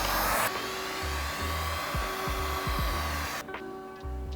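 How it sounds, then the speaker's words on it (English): A heat gun blows a continuous whirring, airy rush while paint protection film from a Vicrez pre-cut kit is wrapped over a car hood; the steady blast briefly drops and then resumes. "So we'll go ahead and grab our heat gun again."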